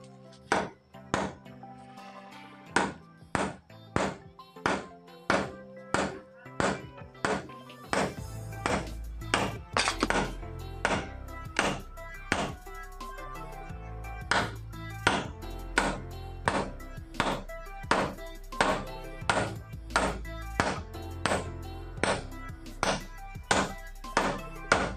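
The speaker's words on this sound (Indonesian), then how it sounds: "Setelah seperti ini kalian paku saja pelan-pelan." Steady hammer blows driving a nail into a wall, dozens of sharp ringing strikes at an even, unhurried pace, close and loud, with a deeper thud joining each hit partway through.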